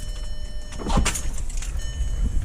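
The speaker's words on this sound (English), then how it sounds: "then you can manually raise the spoiler, take it down, up" The electric rear spoiler of a 2011 Audi R8 Spyder raises with a short, close motor whir of about a second, heard over a low idling engine hum, no talking.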